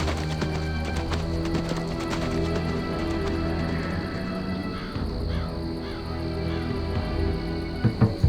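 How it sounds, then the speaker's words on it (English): Steady clip-clop of horse hooves in the game Empire Earth plays under a dense, continuous game soundscape, ending with a few sharp knocks. "Lord William, here is a fine horse for you to ride into London."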